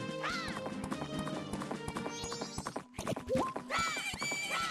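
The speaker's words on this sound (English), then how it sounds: "Yeah, horse." Epona, the horse in Zelda: Majora's Mask, whinnies loudly at the start, then hooves clip-clop amid bright game music and chimes, a second neigh-like cry rising near the end.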